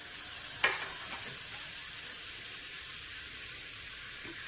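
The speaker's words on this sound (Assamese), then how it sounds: "এতিয়া এইটো মই বাটাৰত ফ্ৰাই কৰিম, নন ষ্টিকত।" Butter sizzling on a hot non-stick tawa, a steady soft hiss with one sharp tap near the start and no voices.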